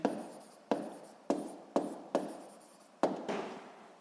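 Chalk or pen writing by hand during a Ukrainian 7th-grade physics lesson: seven sharp strokes and taps at irregular intervals, each with a short scratchy tail, fairly close and alone without talk.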